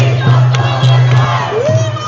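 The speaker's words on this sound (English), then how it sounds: "there's quite a big crowd." Large crowd of students at a pro-Palestinian march outside King's College London, loud massed chanting and shouting with a steady rhythmic roar, close and continuous.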